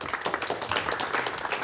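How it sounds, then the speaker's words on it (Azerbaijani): Applause from a live studio audience at an Azerbaijani entertainment show in Agsu, a short burst of dense clapping, fairly close and steady throughout. "Bu alqışlar da sizə düşür."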